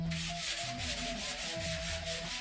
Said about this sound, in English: If you want to sand the whole surface with sandpaper or finish sander